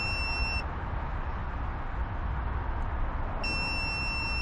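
A steady high-pitched electronic beep from a continuity tester on a pin of the wiring harness for a Mercury 300 outboard engine. The tone cuts out for a few seconds and then returns, heard close up under constant broadband noise.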